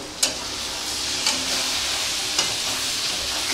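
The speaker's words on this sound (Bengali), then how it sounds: "গোটা রসুনটা এখন দিয়ে দেব। এইটা এখন আমি 30 মিনিট ধরে কষতে থাকবো।" Mutton with whole garlic sautés in a pan. A constant loud sizzle is broken by three sharp scraping stirs spaced about a second apart.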